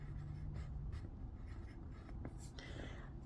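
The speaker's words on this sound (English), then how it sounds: "So we're going to write that in." Pen writing on paper while filling in a geography worksheet, a soft scratchy stroking close by with a few short sharper strokes, quiet throughout.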